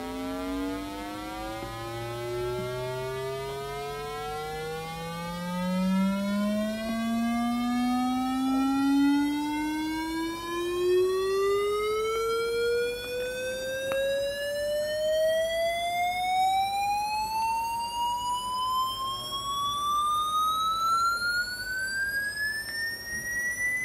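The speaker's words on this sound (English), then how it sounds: "see whether we get a nice continuous sweep of frequency" A digital tone generator driven by a 6502 microprocessor produces one steady tone that glides upward continuously through its range over about 24 seconds, with a string of harmonics rising above it. It runs alone at an even level, with no talking.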